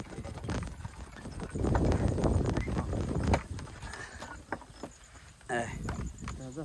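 Horse hooves clip-clop in a steady rhythm as a cart rolls along, with voices talking over the clatter.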